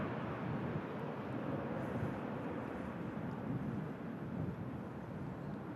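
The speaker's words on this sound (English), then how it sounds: "That TUI Dreamliner on the way out to Montego Bay." A TUI Dreamliner airliner departs for Montego Bay, its engines a distant, steady broadband roar with wind buffeting the microphone throughout.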